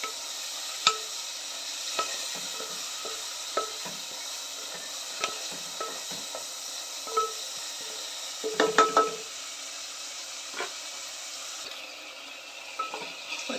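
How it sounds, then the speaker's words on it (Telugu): Rice frying in ghee in a pan, a faint sizzle under repeated light scraping and clinking of a spoon against the pan at irregular intervals, no talk. "ఈరోజు మాత్రం వేసాను, నెయ్యిలో వేస్తున్నాను రైస్కి"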